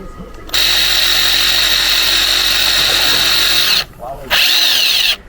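Power drill whirring steadily as a countersunk bit bores into deck boards for a raised planter, a loud, close run that stops briefly and then starts again.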